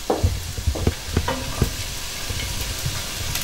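Onions browning in a pan on the stove, a steady close sizzle with a few scraping stirs near the start, no one talking.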